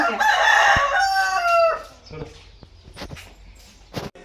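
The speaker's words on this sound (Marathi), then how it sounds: "आपण 3 कोंबड्या बसवल्या, तर आता 1 कोंबडीने पिल्ले दिलेले आहेत" Hens crowing and clucking in a backyard poultry setting where one of three brooding hens has just hatched chicks; a loud call fills the first seconds, then quieter scattered clucks and small sounds follow.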